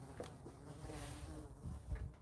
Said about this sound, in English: The bees is out here mating.